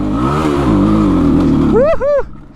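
A motorbike engine on a forest road near Chitlang, revving loud and close with a rising whine, then sputtering in two short bursts before cutting out.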